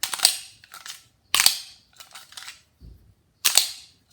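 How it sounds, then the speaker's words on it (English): Magazine seated into a CZ Tactical Sport Orange pistol, a few sharp metallic clacks and clicks separated by brief pauses, close and crisp with no talking. "I'm going to try loading a mag in and just see how it goes in."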